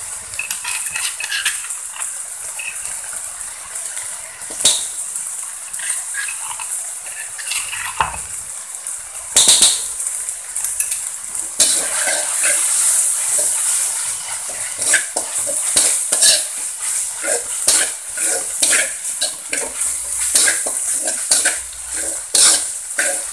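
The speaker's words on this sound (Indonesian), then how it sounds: "Lalu saya mau masukin cabai rawit dan juga cabai keriting yang tadi sudah saya tumbuk." Pounded bird's eye and curly chilies stir-fried in a pan for spicy squid nasi liwet, with steady sizzling and frequent scraping, clinking strokes of a spatula against the metal, close and busy throughout.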